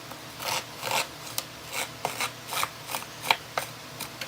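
Repeated short rasping scrapes of a tool dragged along paper tag edges to distress them, about ten strokes in a steady, uneven rhythm, close and fairly quiet.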